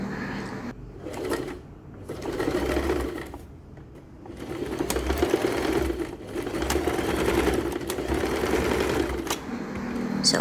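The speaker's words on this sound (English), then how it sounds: "Thread it into the buckle and sew the ends together." A sewing machine runs in several bursts, stitching strap ends together through a buckle on an upcycled cement bag crossbody, a close whirring chatter with short pauses between runs.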